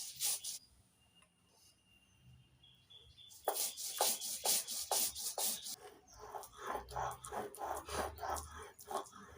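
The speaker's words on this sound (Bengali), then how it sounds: "পোস্তটা অল্প জল দিয়ে মিহি করে বেটে নেব।" Poppy seeds with green chillies ground into a fine paste with a little water on a stone slab and grinding stone, a steady rhythmic rasping scrape that grows louder and more regular after a quiet start.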